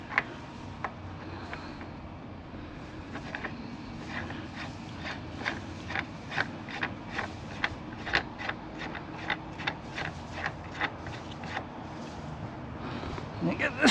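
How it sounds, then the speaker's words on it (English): A spanner tightens a pedal on a Cyrusher XF 900 electric bike, giving a run of faint, quick ratcheting clicks that speed up and grow slightly louder over a low background hum. "get the spanner back on it and give it a good tighten"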